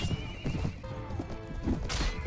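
A horse in a Mount & Blade Game of Thrones mod battle gives a sharp neigh over clattering hoofbeats and impacts, close and fairly loud, in a brief burst of combat noise.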